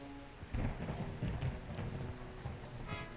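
Heavy rain pours steadily in the Discworld Noir video game as deep thunder rumbles close by, the downpour hissing continuously with no voices.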